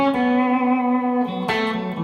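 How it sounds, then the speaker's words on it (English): An electric guitar runs through a foot-controlled reverb pedal on a pedalboard, with only a little amp reverb, playing sustained ringing notes that shift pitch partway through and trail off in a wash of reverb, heard alone. "That way I can control the reverb with my feet."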